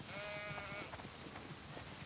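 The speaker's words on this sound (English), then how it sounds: "Wow, that's a lot of sheep." A single faint, wavering bleat of a sheep in The Last of Us Part II on a farm rises briefly over a steady background hum, followed by quieter scattered noises.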